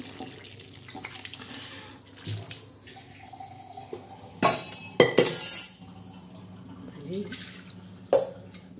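Water splashes into a pressure cooker and sloshes as the pot is swirled, with running-tap noise, metallic clinks and a few louder splashy bursts, while a voice talks over parts of it.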